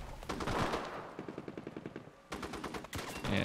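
Bursts of automatic gunfire and single shots in the video game Enlisted, Pacific War campaign, rapid rhythmic volleys with short pauses between, loud and close, no talk.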